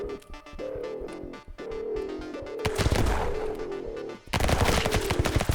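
An explosive SMG firing in the top-down roguelike shooter Flashes of Chaos: loud, rapid bursts of automatic gunfire with crackling blasts over game music, pausing briefly and then resuming.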